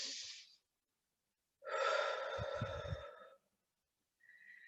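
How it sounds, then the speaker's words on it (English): A slow, deep breath drawn in and released, close and soft, with brief pauses of silence around it and a faint tone near the end. "slow, deep breath in, right down to your belly"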